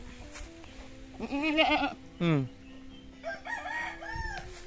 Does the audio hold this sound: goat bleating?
yes